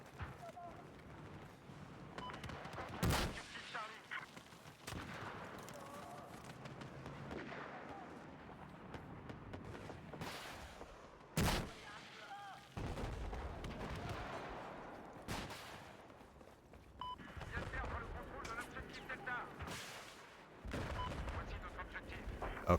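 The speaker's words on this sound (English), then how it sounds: "That's a machine gun." Machine gun fire and explosions in Battlefield 4 multiplayer combat, sharp bursts and heavy booms scattered across the scene, partly distant, mixed under steady game noise and a speaking voice.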